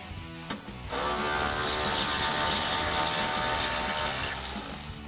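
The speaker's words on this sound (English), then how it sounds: "remove this 8mm right here with my 8mm socket on my electric ratchet" An electric ratchet with an 8mm socket spins out a bolt on a 1996-2004 Mustang air intake, a short click then a sustained loud whirring buzz that runs for several seconds before trailing off.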